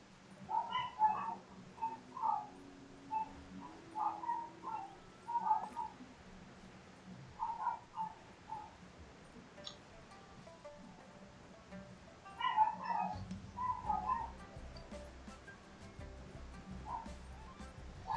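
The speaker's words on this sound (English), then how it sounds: "Sorry for the dog barking." Small dogs yip and whimper indoors in short irregular bursts across the stretch, fairly close but not loud, with low steady hum and faint background sounds beneath them.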